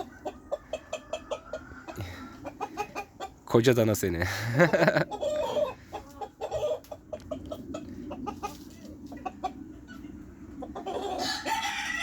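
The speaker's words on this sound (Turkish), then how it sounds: "Bakın Horoz çağırıyor." A Colombian Brahma rooster crows loudly once, a long rising and falling call, amid scattered clucking; a person speaks briefly nearby.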